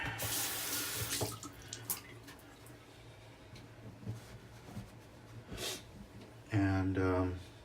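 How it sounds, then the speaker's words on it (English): A brush is rinsed under a running tap, the water splashing steadily into a sink with a brief louder gush near the end, close and fairly quiet. "Let me rinse off my brush. Just give it a little quick rinse."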